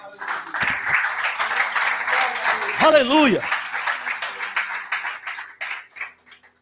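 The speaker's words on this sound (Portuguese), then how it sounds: "Se você entendeu isso, dê um aplauso a Jesus." A church congregation applauds in a steady wash of clapping that lasts throughout, while a voice shouts out loudly in the middle.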